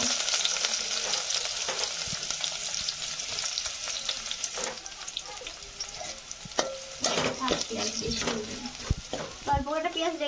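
Onions fry in oil with cumin and dried red chillies, a busy sizzle with frequent stirring scrapes and clatter of the pan, plus a brief voice or two in the background toward the end.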